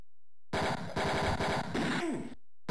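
In the video game Mean Streets, loud rapid-fire gunshots ring out in two dense bursts with a brief gap between them, and a short descending tone follows before silence.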